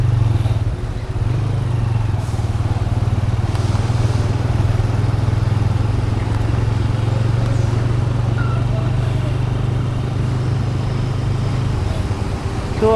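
A motorcycle rides along a highway bike lane toward a toll plaza, its engine producing a steady loud drone with wind rush and road noise throughout.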